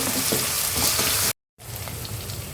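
Boiled cluster beans with turmeric sizzle in a pan with fried curry leaves while being mixed. The frying hiss is steady and close, broken by a brief silent gap.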